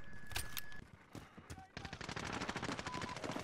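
Rapid automatic bursts from an MP5 submachine gun in Call of Duty Modern Warfare, a brief shot early, then a dense, fast stream of loud rattling fire filling the second half amid game noise.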